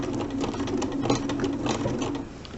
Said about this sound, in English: I'm going to switch back to my straight stitch now and take a few stitches